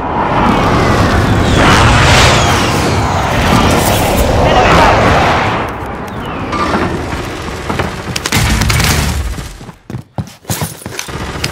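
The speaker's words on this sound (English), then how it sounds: "Be advised, friendly precision airstrike inbound" Precision airstrike explosions in Call of Duty: Modern Warfare on Rebirth Island, a dense barrage of loud blasts and rumbling impacts that rolls on for several seconds, then thins into a few scattered booms while voices talk over it.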